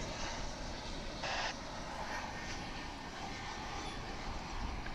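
An American Airlines jet in retro PSA livery at Dallas/Fort Worth airport produces a steady, broad engine roar at moderate distance, with a faint whine and a few brief higher tones on top.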